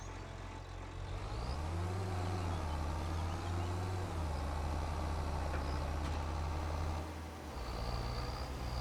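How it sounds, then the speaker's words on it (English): A tractor engine in Farming Simulator turns over and settles into a steady, loud, low diesel drone, its pitch rising and dipping slightly before dropping briefly near the end and picking back up. "So let's start up the tractor."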